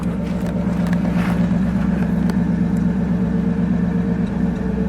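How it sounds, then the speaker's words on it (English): A 1955 Chevrolet Bel Air Nomad idles with a steady, close, low exhaust rumble that holds evenly without any clear revving. "we'll give it a little exhaust note."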